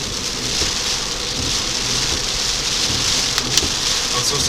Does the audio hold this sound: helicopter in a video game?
no